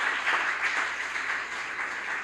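A wedding audience breaks into steady, dense applause, a continuous wash of clapping that holds evenly throughout, with no clear cheering voices standing out above it.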